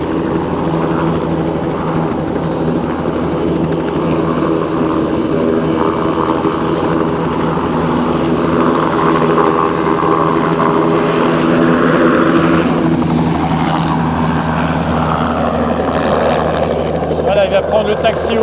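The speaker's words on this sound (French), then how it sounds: "J'ai jamais vu un hélico décoller d'aussi près en fait." A training helicopter lifts off very close by, its loud rotor thrum and turbine whine steady throughout, with people talking over the noise.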